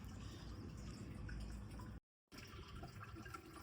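Water pouring into a bucket for an aquarium water change, a steady faint trickling flow with drips, cut by a short silent gap.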